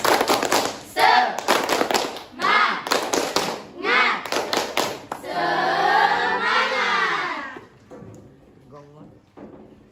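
A group performs a rhythmic spirit clap during a class group-presentation session, with sharp clusters of synchronized claps in patterned bursts, then a loud sustained collective shout, and fainter voices afterward.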